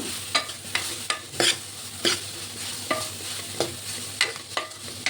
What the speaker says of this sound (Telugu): బాగా మిక్స్ చేసుకొని కొంచెం సాల్ట్ కూడా యాడ్ చేసుకుందాము